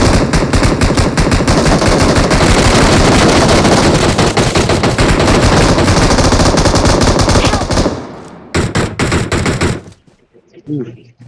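Rapid machine gun fire in a video game, a loud continuous stream of shots for about eight seconds, then a few short bursts before fading out.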